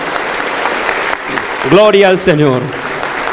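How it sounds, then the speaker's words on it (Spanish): Congregation applause during a church healing service, loud continuous clapping underneath a voice speaking in Spanish. "Aplauso para Cristo Jesús."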